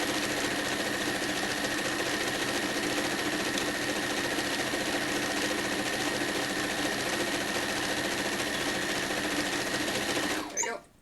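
A sewing machine stitches a quilt seam in one steady, close, continuous whirr for about ten seconds, then stops abruptly; no one speaks.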